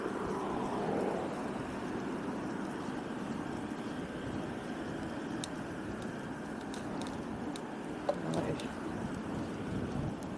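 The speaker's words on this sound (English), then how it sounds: "muffling device on my mic, so hopefully it muffles out most of the wind" Steady wind buffeting a muffled microphone on a bicycle rider during a ride in Aizuwakamatsu, Japan, a constant low rumble with a few faint clicks.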